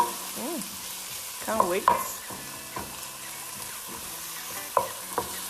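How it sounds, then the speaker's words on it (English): Onions and chorizo sauté for a marinara meatball sauce, a low steady sizzle broken by a few sharp stirring scrapes and clinks, while a person speaks briefly now and then. "So I'm just letting this saute for it to become translucent, for the oils in the chorizo to be released into the sauce."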